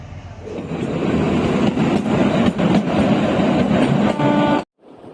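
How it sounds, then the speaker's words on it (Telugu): The Kalka–Shimla toy train rumbles steadily as it starts moving, a loud continuous rolling roar of wheels and carriages with faint rhythmic clacks that cuts off abruptly near the end. "ఎట్టకేలకైతే మా ట్రైన్ అయితే స్టార్ట్ అయింది."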